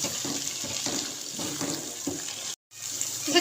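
Water poured from a tap or jug into curry paste cooking in a pan, a steady close splashing stream that runs continuously, breaks off briefly near the end, then resumes.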